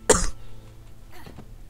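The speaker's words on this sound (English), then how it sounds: "once again, sorry about the cough." A close, sharp cough bursts out once during a video game session, followed by a softer second throat-clearing cough a moment later in an otherwise quiet room.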